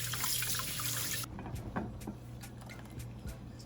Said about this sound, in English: So I'm just going to wash my saltfish off